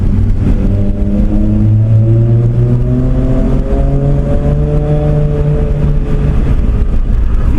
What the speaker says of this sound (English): The engine does have a higher tone to than the 2J. Yeah. And the exhaust is quite loud.